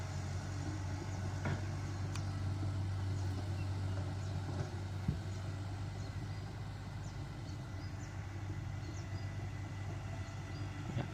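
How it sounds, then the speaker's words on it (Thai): Excavator digging and tossing clay soil while shaping raised mounds on a farm plot, a steady low diesel engine drone with occasional faint knocks and scrapes, continuous and at middle distance. "ตอนนี้รถขุดของเราก็ทำการโยนดิน"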